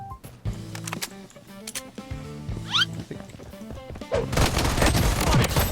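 Glock pistol firing in the shooter game Blood Strike, a rapid string of close, punchy shots with bullet impacts and a burst of heavier fire toward the end.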